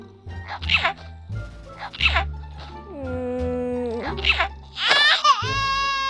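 Babies crying in the Toca video game: several wailing, sobbing infant cries rise and fall in bursts, with some giggly sounds and voices mixed in, loud and close.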